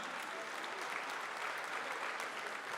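Steady applause from a comedy show audience in a Nigerian hotel venue, dense even clapping filling the room at moderate level throughout, with no voices standing out.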